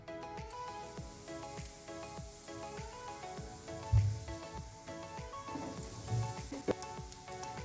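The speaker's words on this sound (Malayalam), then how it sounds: "ഗോൾഡൻ കളർ ആവുന്നവരെ തിരിച്ചും മറിച്ച് ഇട്ടൊന്ന് ഫ്രൈ ചെയ്തെടുക്കാം" Boiled egg and potato snacks fry in hot oil, giving a steady, dense crackling sizzle with fine popping throughout, fairly close and unbroken by talk.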